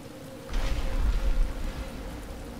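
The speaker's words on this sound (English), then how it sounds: "Why is it raining?" Video game rain hisses steadily throughout at Wayne Manor, with a low rumble rising briefly near the start, like distant thunder under the downpour.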